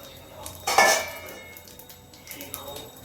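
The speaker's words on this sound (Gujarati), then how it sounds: "કઢીનો વઘાર કરી દઈએ." Tempering of hot oil and hing poured into kadhi in a pot, a sharp sizzle burst up close followed by fading hiss and a few light clinks of utensils, with faint voice nearby.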